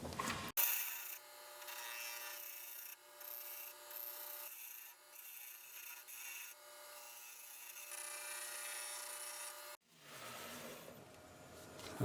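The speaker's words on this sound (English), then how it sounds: "I sanded that up to there, from there in." Sandpaper rubbing steadily against a spinning wooden pumpkin box on a woodturning lathe, a soft continuous hiss at close range that cuts off near the end, with the lathe's low hum left underneath.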